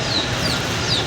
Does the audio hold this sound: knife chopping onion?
no